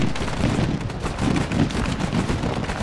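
Dense gunfire in an Arma 3 battle, a continuous loud clatter of overlapping shots and rapid bursts with no voices over it.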